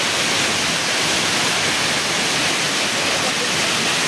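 Balagbag Falls pouring down with a loud, steady roar of rushing water that holds an even broadband hiss throughout, close by with no pauses.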